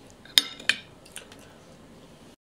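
Cutlery clinking against a plate during a meal of potato and fish, a few sharp isolated taps spaced apart in a quiet room, followed by a brief louder knock at the end.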